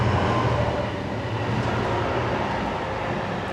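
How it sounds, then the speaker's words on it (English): An underground train rumbles past beneath a bunker workshop, a loud, steady low roar with broadband rail noise that holds for several seconds without easing. "Fucking trains."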